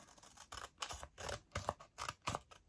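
Scissors snipping through lace, a series of about seven close, crisp cuts in a steady rhythm, each a short scratchy crunch with no talking.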